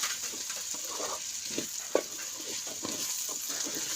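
Stirring a pan of mezhukkupuratti, a spoon scraping and turning the vegetables in a steady irregular rhythm over a constant hiss, with one sharper knock near the middle.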